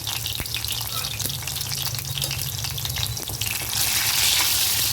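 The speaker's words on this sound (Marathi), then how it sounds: "तर आपण आता तेल टाकून घेतल्या फोडणीची तयारी करूया इथं ठेचलेला लसूण चार पाच कळ्या" Crushed garlic cloves sizzling and crackling in hot oil for a tempering, a steady close frying hiss that swells louder near the end.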